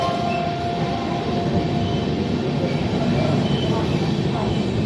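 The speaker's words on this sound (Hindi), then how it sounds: "अभी ट्रेन एक्सेलरेट करेगी" A Rajdhani Express train rolls steadily past Shahjahanpur station without stopping, heard from inside the carriage as a continuous loud rumble and roar with no clear clicks.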